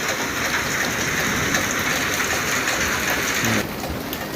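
Heavy rain falls in Manikganj during a hot spell, a dense, steady roar of downpour on surfaces, loud and close, that eases slightly near the end.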